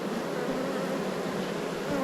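Honey bees at an Australian apiary hive, a dense, continuous buzzing drone from many insects heard up close and steady throughout.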